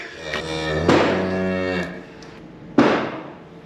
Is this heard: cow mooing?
yes